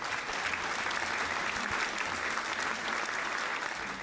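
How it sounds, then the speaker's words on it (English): A small burst of clapping plays through a Minecraft snapshot building livestream, dense and steady throughout, a bright crackling patter at moderate level with no voices over it. "I think I've got a little clapping noise."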